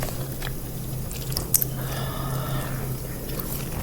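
Close, soft chewing of a hot dog, with moist squishy bites and one sharper bite sound midway, against a quiet background.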